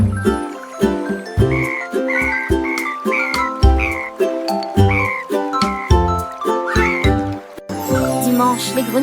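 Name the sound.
frogs croaking in a children's song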